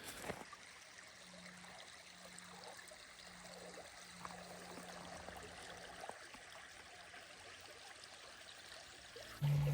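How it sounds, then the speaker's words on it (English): Water from a small stream trickles and burbles steadily at a low, even volume, with no talking. "Isn't that sound of the water just so peaceful?"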